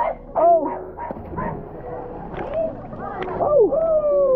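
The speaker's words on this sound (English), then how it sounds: "There's a puppy." A puppy near a cliff-jumping spot in West Virginia gives a series of high, rising whimpers and short yips, several in a row amid people talking.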